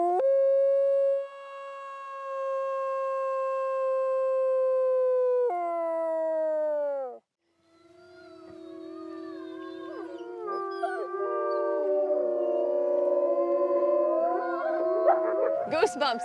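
A dog lets out long, close, sustained howls with sliding pitch, then breaks into a lower, wavering chorus of overlapping howls and yips that builds toward the end.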